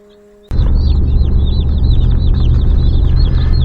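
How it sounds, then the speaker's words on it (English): Many baby chickens cheep together in a barn under a heat lamp in a dense, continuous high-pitched chorus, loud and close, starting abruptly after a brief quiet moment. "we got some chickens. Lots of babies, lots of noise."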